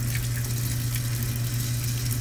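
Water gushes steadily from a pump, a continuous close rushing flow under a constant low hum that is loud throughout the short stretch, with no talking.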